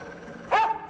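A dog gives a single short bark, close and fairly loud, over a quiet background.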